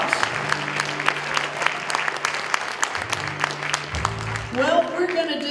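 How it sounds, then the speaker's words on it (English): Audience applause for a live country band's musicians after a performance, a sparse scattering of claps under a speaking voice, with a brief instrumental note near the end. "Let's give them a round of applause."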